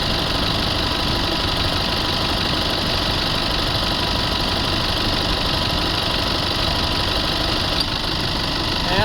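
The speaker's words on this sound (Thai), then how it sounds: "เสียงคอมแอร์ทำงานเงียบปกตินะครับ" A Chevrolet Trailblazer 2.8 engine idles steadily with a constant mechanical hum and faint vibration, the air-conditioning compressor whirring quietly along underneath, continuous and close.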